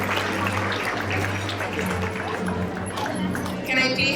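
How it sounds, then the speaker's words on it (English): Applause for Ms. Herrera's class at an elementary school sixth-grade graduation, a continuous wash of clapping from a large audience heard through a sustained crowd murmur and room noise, steady throughout. "Let's give a round of applause to Ms. Herrera's class"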